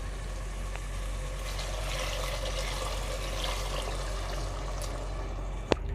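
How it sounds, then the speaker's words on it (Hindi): Water pours steadily into a cooking pot of chana masala gravy with a continuous splashing rush, followed near the end by a single sharp clink. "तब हम इसमें डाल देंगे पानी।"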